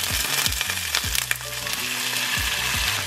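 Shrimp and a heap of garlic frying in a hot pan, a steady loud sizzle with stirring scrapes throughout, no talking.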